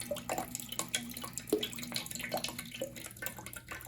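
Water drains out of an opened plumbing pipe before it is cut for a SharkBite fitting, a steady trickling and dripping with small splashes, close and fairly quiet.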